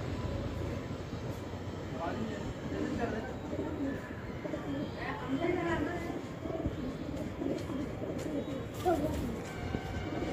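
Brown high-flyer pigeons cooing softly in a loft in Rajasthan, with low repeated coos over steady ambient noise and a faint rumbling background. Their calls are fairly quiet and continuous.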